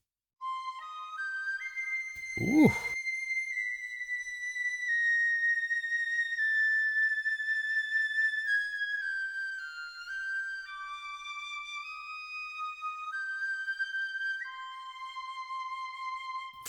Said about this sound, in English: So piccolo flute sounds like this.